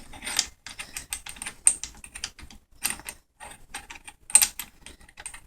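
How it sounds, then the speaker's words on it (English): Clicking and snapping of a muzzle shroud being fitted onto a Manticore Arms muzzle brake, with a pin pressed down; a quick series of close, sharp metallic clicks and ratchet-like ticks with brief pauses between bursts. "So I put this on first and I hold it at an angle so it depresses the pin."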